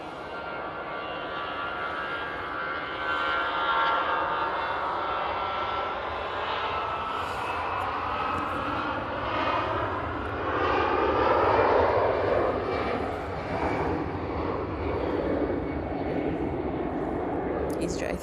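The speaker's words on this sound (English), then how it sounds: "EasyJet A320 to Prague." An EasyJet Airbus A320 bound for Prague passes at Manchester Airport, its jet engine roar swelling and sweeping in pitch over a long stretch while people talk nearby.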